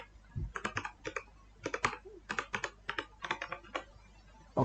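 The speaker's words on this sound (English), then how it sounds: "type your password." Rapid, uneven keystrokes on a computer keyboard entering a password, close and crisp, in short bursts with brief pauses between runs of clicks; no talking.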